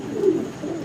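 A pigeon offered for sale coos once, a low soft throaty call, close and steady, over faint room noise.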